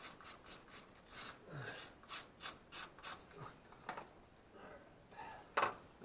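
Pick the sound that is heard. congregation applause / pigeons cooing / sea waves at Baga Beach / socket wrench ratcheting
socket wrench ratcheting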